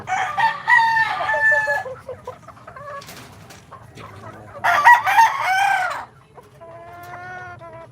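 Pet chickens at home, where a rooster crows loudly nearby twice, between stretches of hens clucking and a lower crow at the end, over a quiet hum.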